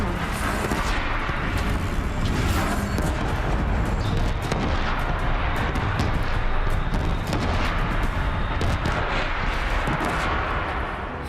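Combat against a large machine in Horizon Zero Dawn, firing its own mounted gun at the heart: a loud, unbroken roar of rapid heavy gunfire and crashing impacts, with no pauses.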